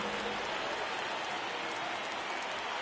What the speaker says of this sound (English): There is rain in the area